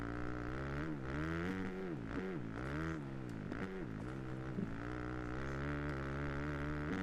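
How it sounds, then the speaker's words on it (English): A motorbike engine in the TrackDayR racing game revs up and down in repeated surges, a loud continuous buzzing whine rising and falling in pitch several times before settling into a steady drone. "this bike is going much better right now"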